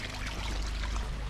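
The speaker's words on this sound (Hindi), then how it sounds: "पानी जो है यहाँ से नीचे बह रहा है साइड से" Water trickles steadily down the side of uneven stone stairs at Raigad Fort, a continuous close, hissing flow with no pauses and no voices.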